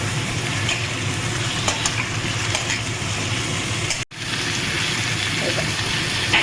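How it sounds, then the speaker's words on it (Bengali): Chicken and onions frying in oil in a pan, a dense, steady sizzle that holds throughout, with one brief dropout just after the four-second mark before the crackle resumes. "দেখো পেঁয়াজ আর চিকেনটা সুন্দর করে ভাজা হচ্ছে।"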